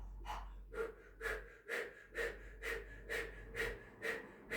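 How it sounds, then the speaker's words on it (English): Steady mouth breathing through pursed lips, like blowing through a straw, during a Kundalini yoga session: about nine even, equal inhales and exhales in a continuous close rhythm, with no talking. "so you're breathing in and out through that mouth, as if you're blowing through a straw"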